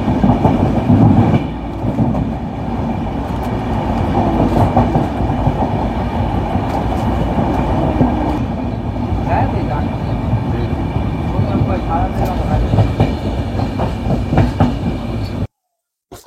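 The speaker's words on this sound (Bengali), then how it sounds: "আমাদের ট্রেন হাওড়া স্টেশন থেকে ছাড়লো" Kriya Yoga Express running on tracks after leaving Howrah station, a steady loud rumble with clickety-clack of wheels over rail joints throughout, ending in a brief drop to silence.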